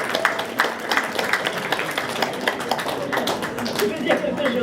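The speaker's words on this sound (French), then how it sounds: "on peut l'applaudir." Audience clapping at the opening of Vanessa Devèvre's art exhibition "Women" in Paris, a steady patter of many hands in a room, moderately loud with small peaks and a murmur of voices beneath.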